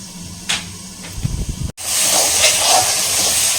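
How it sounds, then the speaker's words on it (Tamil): Onions sautéing in an iron kadai: a few brief knocks and scrapes, then a steady, loud, close hiss of frying that continues to the end. "இப்போ வந்து பார்த்திங்கன்னா கொஞ்சம் வெங்காயம் நல்லா வதங்குது"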